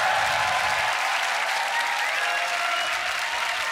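Sustained audience applause at a Grand Beatbox Battle 2023 World League loopstation championship showdown, a dense steady roar of clapping hands with a faint crowd murmur, loud and continuous throughout.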